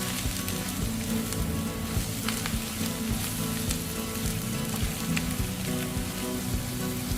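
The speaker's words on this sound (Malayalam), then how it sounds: "ഇനി ഇത് നന്നായിട്ട് ഇളക്കി ഒന്നും കൂടി അതിൻ്റെ പച്ചമണം മാറുന്നത് വരെ ഇളക്കി യോജിപ്പിക്കുക" Onions with masala powder frying in a pan for a steamed egg masala roast, a steady dense sizzle with occasional scraping and stirring clicks throughout, close and continuous with no talk.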